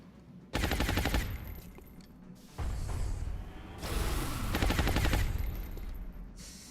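Video game gunfire comes in three long, loud, close rattling bursts with short breaks between them. The last burst is mixed with whooshing effects.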